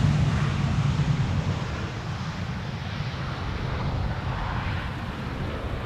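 A heavy airliner arriving from Buenos Aires comes in to land at Amsterdam Schiphol, its engines a steady broad roar blended with gusty wind noise on the microphone, loud and continuous throughout.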